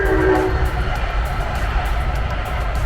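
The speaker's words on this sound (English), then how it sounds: "Wait a minute, I'm gonna let this train go past. It's a train track behind me." A train passes on the track close by with a continuous loud rumble, a brief horn note at the start and a regular clatter of wheels over rail joints.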